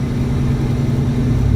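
A Ford Raptor pickup truck's engine hums steadily while driving, a loud, even low-pitched drone with no break, heard up close with no voices.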